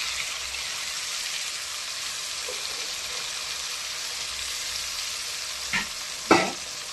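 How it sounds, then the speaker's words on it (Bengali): Spice paste fries in oil with softened tomato, a steady close hiss of sizzling throughout, with two brief knocks of a spoon near the end and no talk. "তেলের মধ্যে এখন মশলাটা আমি বানিয়ে রাখা মশলাটা দিয়ে দেবো"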